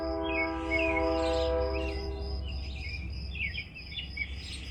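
A train passes at night near a campsite by the Cowboy Trail in Iowa or Nebraska, a long horn blast over a deep steady rumble, with birds chirping over the fading horn.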